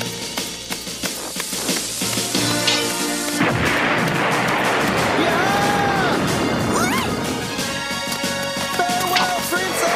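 Cartoon bomb explosion blasting the Triforce apart, a loud crashing boom that erupts amid a dense, layered action soundtrack and keeps rumbling and crackling with debris for several seconds.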